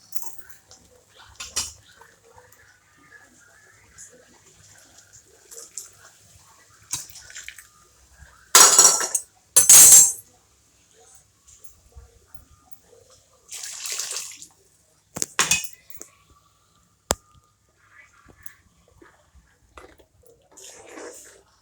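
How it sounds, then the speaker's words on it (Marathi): Hot water splashes into a cooking pan of potato and green chilli curry in two short loud pours, followed by a few brief bursts and faint clinks in an otherwise quiet space. "त्यात आपल्याला गरम पाणी टाकायचं आहे"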